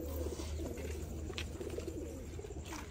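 Racing pigeons coo softly in a home loft, a steady low murmur of overlapping calls with a few brief wing flutters over constant background hum.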